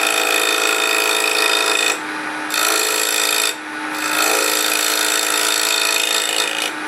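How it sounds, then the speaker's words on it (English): A gouge cuts into wood, producing a loud, steady rasping hiss broken by two short pauses, with no talking. "You can see as I start to cut into the wood, you can see the tip of the gouge."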